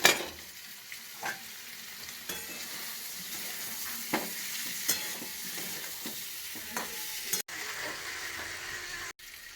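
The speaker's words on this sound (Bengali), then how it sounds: "সেদ্ধ আলুগুলো তেলের মধ্যে ভেজে রাখা হয়েছিল সেটা এখন দিয়ে দেওয়া হবে" Boiled potatoes with spices frying in oil in a karahi, a soft continuous sizzle with periodic stirring scrapes and clinks, fairly quiet and close.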